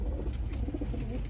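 A homing pigeon at a training box coos softly and steadily for a moment, over a low rumbling background.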